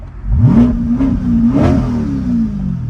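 A Corvette GT4 R race car's engine blips through several quick revs up and down, loud and close, with a rough mid-pitched growl settling to idle between, no talking.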